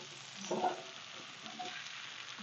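Frozen, precooked potatoes fry in a Lodge cast iron skillet, giving a soft steady sizzle with a brief louder burst of stirring.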